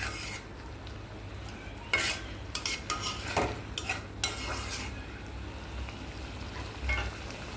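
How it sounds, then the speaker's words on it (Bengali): Beef korma is sautéed in spices in a pan, with a soft continuous sizzle and several sharper scraping stirs of a spoon against the pan spread through the middle; no speech. "তো এই যে আমি ভালো করে কষিয়ে নিচ্ছি।"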